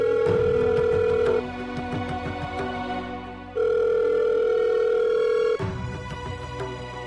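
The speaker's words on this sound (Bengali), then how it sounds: "ধরো ধরো ফোনটা ধরো।" A landline telephone rings in long, loud steady tones, two extended rings separated by a pause, with background music playing underneath in a domestic drama scene.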